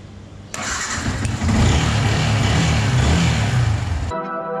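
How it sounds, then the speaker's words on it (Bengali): A Yamaha R15 V2 motorcycle engine cranks briefly and then catches, running at a loud, steady idle for several seconds before cutting off abruptly near the end. "ফাইনালি বাইক স্টার্ট হয়ে গেছে"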